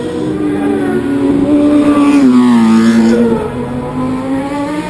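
A Honda racing motorcycle screams past at a Mountain Thunder street race, its loud high engine note swelling and bending in pitch as it passes close by.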